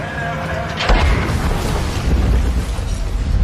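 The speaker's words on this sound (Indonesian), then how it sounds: "Namun saat Adela dan Binining masuk, tiba-tiba tank menembak ke arah Juan dan membuat mereka terpisah." A tank gun fires in a war film scene, a single heavy boom with a broad blast that rolls into a sustained low rumble and debris noise, loud and close.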